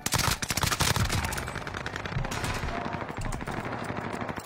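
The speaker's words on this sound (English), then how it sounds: "Where's all that shooting coming from, bro?" Rapid automatic gunfire in the video game Call of Duty Warzone: dense, loud bursts of machine-gun shots that crackle continuously for several seconds, then thin out into scattered shots.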